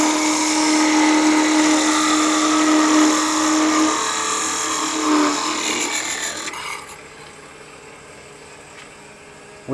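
A bowl gouge on a wood lathe cuts into a spinning endgrain pear wood bowl with a steady, loud scraping rasp and a sustained tone. The cut eases and thins toward the end with no talk.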